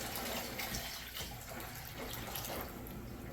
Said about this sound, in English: fill it up with water, pour it in the pot